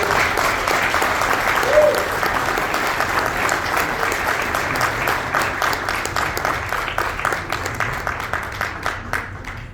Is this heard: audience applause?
yes